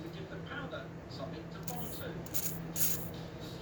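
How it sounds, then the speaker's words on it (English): Penetrating oil sprays onto a press-fit wrist pin in three short hissing bursts over a low background hum, with a voice faintly present. "You want to take some penetrating oil."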